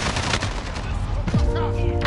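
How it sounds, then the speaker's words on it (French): Gunfire in Call of Duty Modern Warfare: a burst of rapid shots rattles out loud and close, followed by a sharp impact and a ringing tone. "Je me fais tirer dessus."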